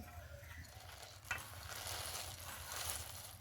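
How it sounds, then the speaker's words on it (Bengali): Fried bundiya being stirred into thickened sweetened milk in a pan over a very low flame, a steady soft scraping and faint sizzle with one brief louder knock near the start, no voices. "হালকা আছে নেড়ে চেড়ে ভালো করে একটু মিশিয়ে নেব"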